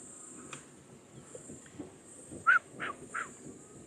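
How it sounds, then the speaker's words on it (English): Several birds call in the early morning outdoors on a safari drive, a few short bright chirps of moderate loudness around the middle and end over a soft steady background hiss. "you can hear all the different birds going"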